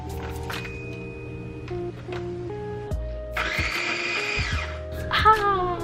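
A blender whirs in a short, loud burst, mixing chili peppers with salt and sugar, rising over background music before stopping.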